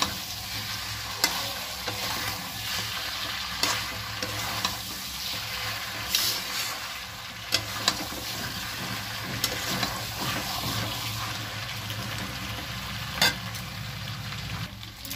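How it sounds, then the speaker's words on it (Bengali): Potatoes stir-fried in hot oil in a home kitchen, a steady close sizzle with a spatula scraping and clinking against the pan at irregular intervals, continuous and fairly loud with no talking. "এবার দিয়ে দিলাম আলুগুলো, আলুগুলো দিয়ে একটু কষাবো"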